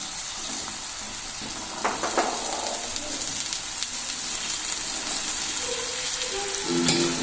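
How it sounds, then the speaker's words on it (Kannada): Boiled brown chana goes into a hot tempering with curry leaves and sizzles, a steady close crackle broken by a few louder bursts and clinks as it is added and stirred. "ಈಗ ಇದಕ್ಕೆ ಉಸುಳಿನ ಸೇರಿಸ್ತಿದ್ದೀನಿ."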